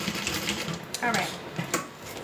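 A sewing machine top stitches a wallet flap in short bursts of rapid, close mechanical clatter, with brief pauses between runs.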